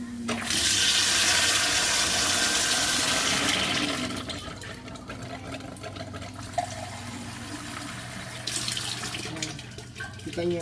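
Water pours and splashes from a water filter into a bucket, loud and rushing at first, then settling into a softer trickle with occasional drips and splashes.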